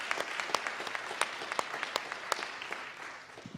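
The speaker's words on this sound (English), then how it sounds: "I want to give Bryan another round of applause." An audience applauds after a talk on transportation and communities, a steady wash of many hands clapping at moderate distance, fairly soft, with sharper individual claps standing out and the applause tapering off toward the end.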